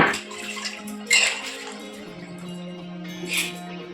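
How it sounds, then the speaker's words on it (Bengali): Water poured in and worked by hand through ripe palm fruit pulp, a wet splashing and squelching that swells in two brief bursts over steady low background hum. "একটু জল দিয়ে হাত দিয়ে এমনি করে নেব"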